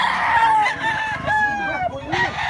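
Roosters crow loudly and near at a market in Mantalungon, Cebu, with overlapping calls and clucking. One long crow dominates while other birds sound around it.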